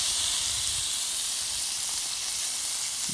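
Marron crayfish sizzle on a hot cooking surface as they are flipped, a steady loud hiss of frying that stays constant from start to finish, with no talking.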